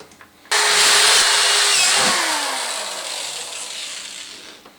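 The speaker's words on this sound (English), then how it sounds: "3/8 inch drill, here we go" A power drill with a 3/8 inch bit whirs loudly and steadily as it bores through a plastic bucket, its pitch sagging slightly under load before easing off.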